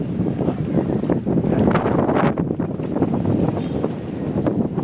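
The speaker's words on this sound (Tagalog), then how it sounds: "Lakas ng hangin." Strong wind roars steadily against the microphone, a dense, buffeting rush of noise with slight gusts and no voices.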